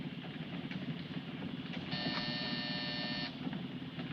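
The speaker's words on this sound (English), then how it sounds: "Hit that buzzer." A bus stop buzzer gives one steady electronic buzz lasting over a second, sounding over the constant low rumble of a moving vehicle's engine, with no talk.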